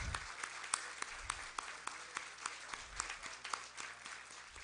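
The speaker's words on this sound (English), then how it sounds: "We would like to give them a clap." Audience clapping for a group of farmers at an environmental sustainability summit, a light, uneven patter of hands with distinct individual claps throughout, moderately close with room noise beneath.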